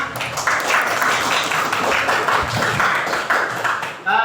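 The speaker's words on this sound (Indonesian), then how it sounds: "tepuk tangan untuk kita semua" A group claps together in a dense, steady burst of applause, close and loud, fading out at the end.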